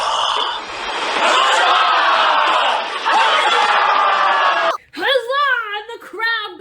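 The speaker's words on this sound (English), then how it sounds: "And the crowd goes wild." A large crowd roars and cheers wildly in a loud, sustained wall of shouting for several seconds, then breaks off into a single excited voice whooping and shouting up close.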